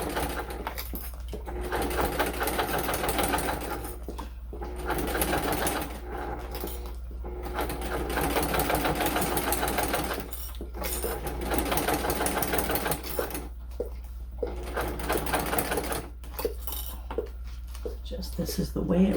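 A sewing machine stitches in repeated bursts, whirring runs stopping and starting in an uneven rhythm, close and fairly loud, with a person talking over parts of it.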